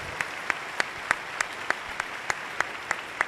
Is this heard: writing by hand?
no